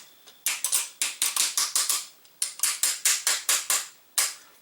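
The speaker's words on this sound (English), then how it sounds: "Pretty sure I'm going to have to hammer this." Repeated hammer blows tapping a part into an AK rifle during assembly, about twenty sharp metallic strikes in uneven bursts, close and fairly loud with no talking.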